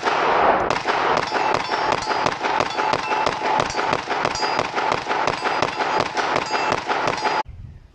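Rapid string of loud, sharp gunshots from an FN 510 10mm pistol fitted with a prototype compensator, firing Winchester Silvertip rounds, nearly continuous close reports over about seven seconds before stopping abruptly.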